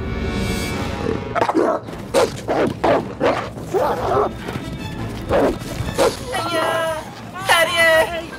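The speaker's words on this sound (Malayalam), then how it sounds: "പട്ടി ആ പട്ടിയാണ്" A dog barks and yips in a Malayalam-dubbed Harry Potter film scene, a few sharp calls rising near the end amid excited, overlapping speech.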